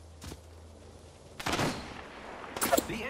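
Enemy gunfire in the Apex Legends battle royale game, a few sharp bursts of shots at moderate distance with a loud volley near the end.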